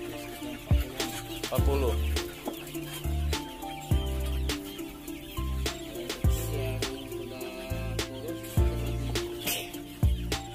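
Two-month-old Ayam Arab laying chickens cluck and call close by in an enclosed coop, amid scattered knocks and thumps.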